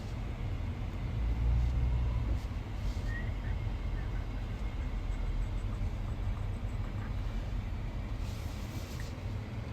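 Steady low rumble of a 2021 Honda Pilot Elite on a dealer test drive, with road and engine noise filling the cabin continuously at an even level, plus a few faint ticks and clicks.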